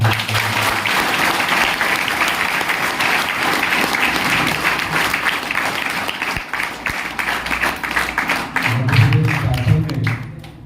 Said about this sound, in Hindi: मैं चाहूँगा कि सारे बच्चे एक बार जोरदार ताली से